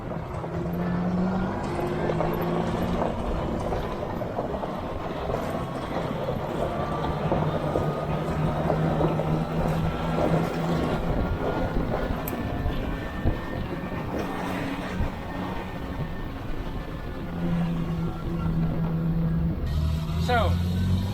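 A Unimog 404 truck drives with freshly adjusted brakes, its engine and drivetrain giving a steady, loud rumble with rattling and road noise throughout and a brief brake hiss near the end.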